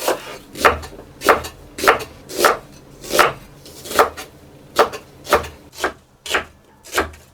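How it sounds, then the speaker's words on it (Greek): A knife slices an onion into slices on a board, giving about eleven crisp, evenly spaced cuts in a steady rhythm roughly twice a second. The cuts are close and clear, with no talking. "Θα κόψουμε το κρεμμύδι σε φέτες."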